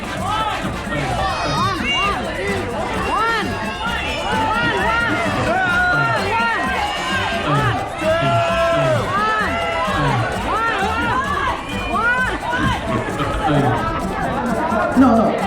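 Dense, loud crowd of cheering and shouting voices at a Mr. Sexy Legs contest aboard the Norwegian Getaway cruise ship, sustained throughout with overlapping whoops and chatter close by.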